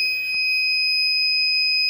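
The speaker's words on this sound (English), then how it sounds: "it must be an undervolt alarm" A battery undervolt alarm sounds during a capacity test of a Dakota Lithium 36-volt 100Ah pack on a TXT EZGO golf cart, a loud, steady, high-pitched electronic tone held without a break, alone.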